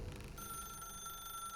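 A telephone rings in The Stanley Parable video game, a faint, steady electronic ring tone that holds on continuously after a brief murky start, with no talk.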